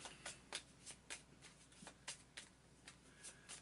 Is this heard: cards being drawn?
yes